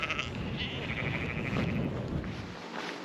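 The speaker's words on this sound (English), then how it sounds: "They appear to be herding sheep at the moment." Sheep bleat repeatedly while being herded on open Welsh hill country, their calls close and overlapping against a constant wind-like background rush.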